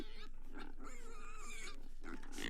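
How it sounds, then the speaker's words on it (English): Recorded pig squeal played back from an animal voices device, a brief series of squeals and grunts, slightly tinny and continuous for a couple of seconds. "plays the squealing pig sound."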